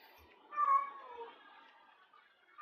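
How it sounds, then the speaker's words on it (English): A cat meows once in a drawn-out, moderately loud call, followed by a quieter trailing note and the start of another meow at the end, set against a quiet, steady background. "I can hear a cat. Is it a cat? Yes, it is a cat."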